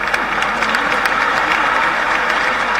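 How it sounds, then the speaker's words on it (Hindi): Steady audience applause welcoming guests at a Bhopal memorial ceremony, a dense, continuous patter of many hands clapping at moderate distance that holds evenly throughout, with a low background hum. "अपनी तालियों के माध्यम से कर्मठ ध्वनि के माध्यम से स्वागत के कार्यक्रम में हम सभी की सम्मिलित हैं"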